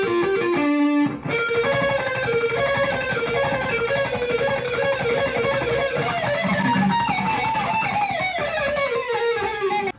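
An electric guitar plays a sustained, distorted lead line through a Westcreek High Voltage amp, with continuous loud notes and bends filling the whole stretch and no talking.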